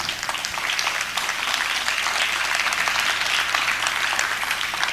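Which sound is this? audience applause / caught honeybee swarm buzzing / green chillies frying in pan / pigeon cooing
audience applause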